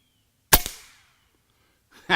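A Condor SS .25 caliber air rifle fires once, a sharp close crack with a short decaying ring as the pellet strikes a wire holding target spinners, followed by a brief noise near the end.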